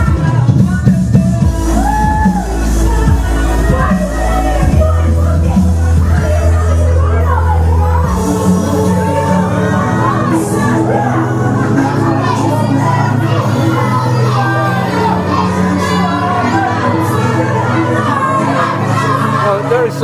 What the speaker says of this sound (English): aggression being displayed by this UKW crowd towards KC Spinelli